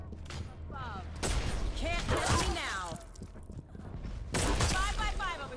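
Weapon fire in the arena shooter Quake Champions, loud sharp zapping shots with sweeping tonal sounds, several in quick succession over busy game noise while a player talks.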